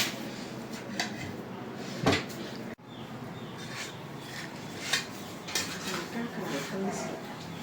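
Plates and cutlery clatter and clink for several seconds as plates are handed out to guests for iftar, with faint background voices.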